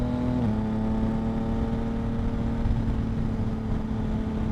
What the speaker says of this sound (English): just let go of the throttle, click down, and it downshifts and it rev matches